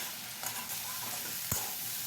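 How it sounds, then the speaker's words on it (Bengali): Potatoes and onions fry together in a pan with a soft, steady sizzle throughout and one brief scrape or clack of stirring partway through, all fairly quiet and close. "আলু আর পেঁয়াজটা একসঙ্গে ভেজে নিচ্ছি"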